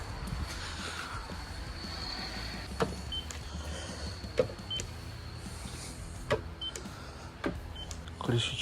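Electric power windows on a Skoda Superb run with a steady, faint motor whine, punctuated by several sharp clicks and knocks as the glass moves and stops.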